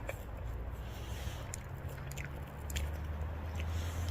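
Young edible shoots, like tender leaf tips, being bitten and chewed close up outdoors, with soft crunchy, squishy mastication sounds over a low background rumble, no talking.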